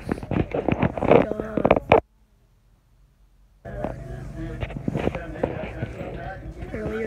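Horse hooves clop in quick, loud bursts around a cowboy ranch setting, stop for a short silence, then carry on more steadily amid background noise and people talking.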